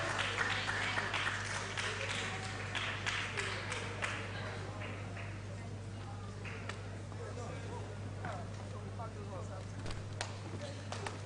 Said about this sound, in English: Please a round of applause, a round of applause.